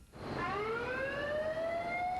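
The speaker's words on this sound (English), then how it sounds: "the signal that is used, usually a horn or siren, to notify personnel that an evacuation is required" A loud evacuation siren of the kind used to signal personnel to leave a workplace sweeps upward in a sustained wail with bright harmonics, heard alone without speech.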